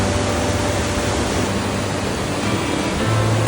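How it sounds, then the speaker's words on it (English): Norvan Falls near Vancouver roars as a steady, full-bodied wash of falling water, heard from close by on a hiking trail, constant and unbroken with no voices over it. "I can already hear the waterfall"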